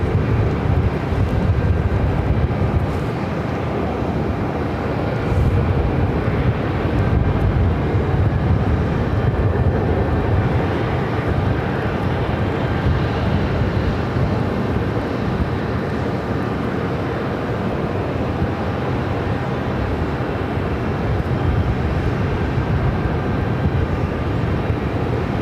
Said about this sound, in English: Next arrival here on the north side is American Airlines flight 2042,